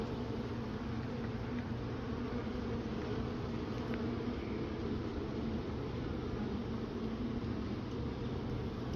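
Dense, continuous low drone of many average-sized honeybees buzzing around an open hive during a late September inspection, steady and close with no pauses or voices.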